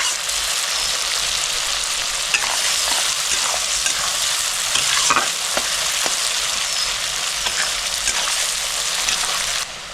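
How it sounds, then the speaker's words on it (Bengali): Chopped onion fries over a high gas flame for a prawn curry, a loud, steady, close sizzle with repeated scraping strokes of a spatula as it is stirred, easing slightly at the very end. "গ্যাসটা জোরে করে দিয়ে ভাজছি পেঁয়াজ।"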